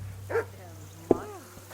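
Two short dog barks or yips, one after the other, fairly close and over a low steady hum, in the medieval video game Kingdom Come: Deliverance II.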